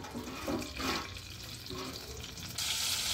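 Onion pieces fry in oil over a wood fire, a faint soft sizzle that turns into a brighter, louder hiss for the last half second, with a few quiet soft clatters.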